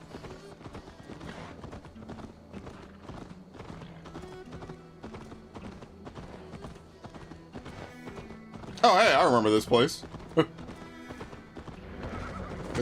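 In Assassin's Creed Valhalla a horse gallops with steady rhythmic hoofbeats and lets out one loud whinny partway through, while someone talks over the gameplay.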